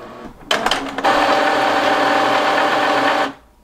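An Epson EcoTank ET-2850 printer runs its initialization: a few quick mechanical clicks, then a loud, steady motorized whir lasting nearly three seconds before cutting off abruptly.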